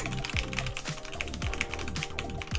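Fast typing on a mechanical keyboard with RGB lighting, a dense, steady run of crisp key clicks and clacks close to the mic, with no talking.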